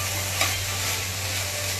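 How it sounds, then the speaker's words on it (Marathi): Chicken cooks in a pan for chicken Chinese, giving a steady broadband sizzle with a low constant hum underneath and one brief scrape of stirring near the start; no voices. "याच्यामध्ये आपण चायनीज बनवण्यासाठी जे चिकन आणलंय ते आता शिजवून घेणार आहे"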